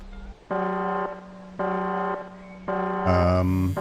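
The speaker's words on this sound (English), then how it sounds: "Alarm going off." Repeated electronic alarm tone in the horror video game Unhomely, sounding in three sustained bursts of about half a second each with short gaps, then a louder, denser tone at the end, fairly close and prominent.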